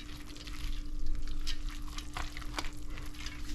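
Green peas being stirred into a one pot cheesy pasta, giving a soft wet churning and sloshing with faint scrapes, steady and close with no talk over it.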